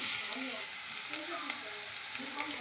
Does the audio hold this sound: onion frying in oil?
yes